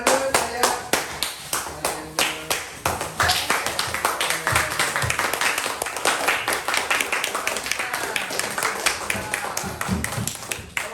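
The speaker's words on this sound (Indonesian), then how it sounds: "Tepuk tangan." Year 5 pupils clapping hands together in a classroom, a dense, fast, close patter of many claps that continues steadily, with children's voices chattering underneath.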